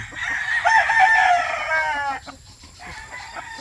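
A straight comb bulayo breeding rooster crows once, close and loud, a long drawn-out call fading after about two seconds, followed by softer clucks and faint farmyard background.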